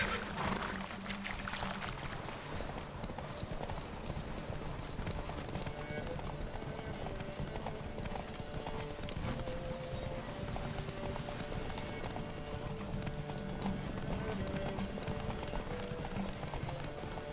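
Horse hooves clip-clop at a steady gallop in The Witcher 3, a continuous rhythmic pounding that runs under game music, occasional whinnies and a voice talking.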